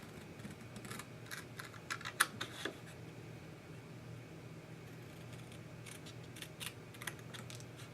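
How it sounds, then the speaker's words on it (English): Scissors snip into the corner of a card, a scattering of short crisp cuts in a quiet room, with a few louder snips near the start and more toward the end, no voices. "So I'm just going to cut."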